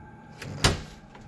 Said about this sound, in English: The door creaked open.